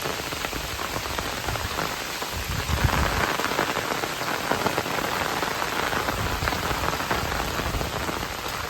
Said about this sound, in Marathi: पाऊस इलो खूप मोठो आई शपथ